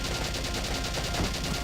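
Sustained automatic gunfire in the game Valkyria Chronicles, a dense, even rattle of rapid shots with no pauses and no talk.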